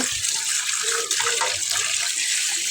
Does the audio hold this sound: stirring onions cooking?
no